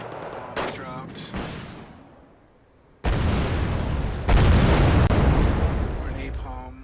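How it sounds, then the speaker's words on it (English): Bombs explode in the war strategy game Wargame: Red Dragon, loud rumbling blasts that swell into a long, heavy roar in the second half, with someone talking at the start and the end. "Bombs dropped."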